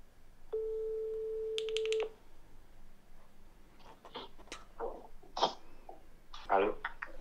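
A phone call to a boyfriend opens with a single steady ringback tone and then a short burst of higher beeps. Quiet rustles and breathing follow.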